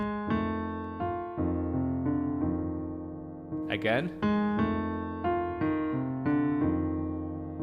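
A piano plays a 12-bar blues left-hand pattern, with steady repeated bass notes and chords ringing and decaying in an even rhythm; a brief spoken word breaks in midway.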